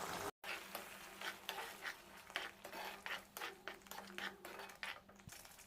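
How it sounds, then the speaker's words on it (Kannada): A spoon stirs spicy chicken liver and gizzard curry in a pan after half a cup of water goes in, making repeated scraping clinks over a soft, steady simmering sizzle. "ಈಗ ಒಂದ್ಸರಿ ಚೆನ್ನಾಗಿ ಮಿಕ್ಸ್ ಮಾಡ್ಕೊಳ್ಳೋಣ."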